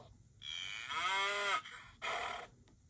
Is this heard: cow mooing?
yes